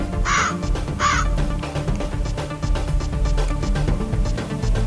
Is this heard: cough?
no